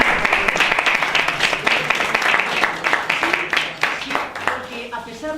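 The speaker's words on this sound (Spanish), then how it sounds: "un aplauso para ella" Audience applause for a birthday guest at a Spanish book launch, a dense crowd clapping steadily throughout with voices talking over it near the end.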